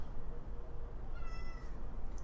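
A cat meows briefly, a soft high call rising over steady low background rumble, with a fainter second mew at the end.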